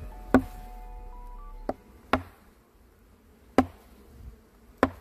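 A beekeeper feeding the bees gives several sharp, separate taps on a beehive frame, spaced irregularly over a soft background hum of buzzing bees.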